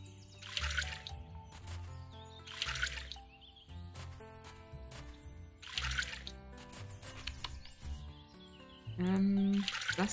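Repeated soft watering splashes and trickles in the game Littlewood, several short bursts spaced a couple of seconds apart over gentle, steady background music.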